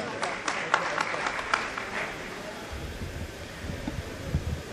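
Applause from the audience at a ghazal mushaira, a broad crackle of clapping that is strongest in the first two seconds and then thins into scattered claps and low room noise.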